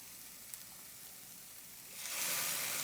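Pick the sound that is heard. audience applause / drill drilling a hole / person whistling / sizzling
sizzling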